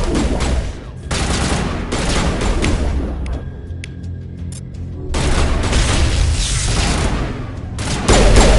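Loud gunfire in Mass Effect Legendary Edition, with heavy automatic bursts and booming shots arriving in long volleys, broken by a brief lull and then resuming just as intensely.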